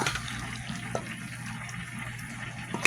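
Water pours steadily into a pan of sauteing salmon, a continuous close hissing splash that stays even throughout with no talking.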